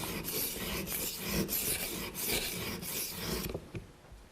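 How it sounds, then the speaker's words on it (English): Knife blade ground on an EdgePro sharpener to thin its bevel: a series of close, steady rasping strokes, roughly one every 0.6 seconds, ending after about three and a half seconds, with no talk. "So I'll just keep grinding away until I get my bevel down to under 1 millimeter"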